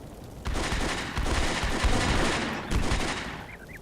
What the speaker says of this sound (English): machine gun now has to be set up